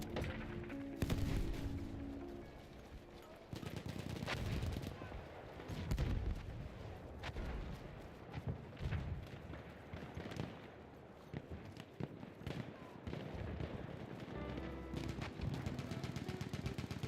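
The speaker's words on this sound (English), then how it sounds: "Enemy machine gun." Battlefield 1 gunfire with an enemy machine gun in the mix: dense, sustained bursts of shots and explosions at moderate level throughout, with a voice talking over parts of the battle.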